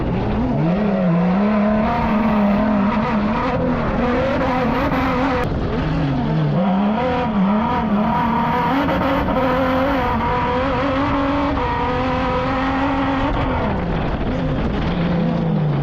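Off-road race trucks roar around a dirt track in a championship race, their engines loud and continuous, rising and falling as they accelerate and shift, with no voices over the din.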